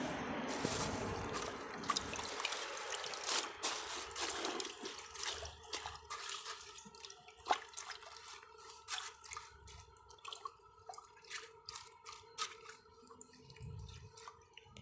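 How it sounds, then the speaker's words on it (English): Water trickles and drips steadily into a 1945 Kohler Trent toilet bowl, soft and close, with scattered small splashes and clicks. "I'm gonna get a little bit of water into the bowl"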